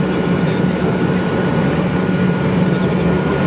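Steady droning engine noise inside a Dornier Do 228 small propeller plane in flight, a continuous loud hum with a strong low tone holding evenly throughout and no talking.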